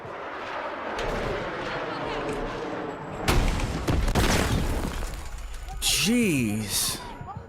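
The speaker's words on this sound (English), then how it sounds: "I got hit by a missile." A missile explosion strikes the player in the video game Battlefield 6, a sudden loud boom at mid-clip after steady gunfire and battle noise, followed by rumbling debris and a rising, wavering siren-like tone near the end.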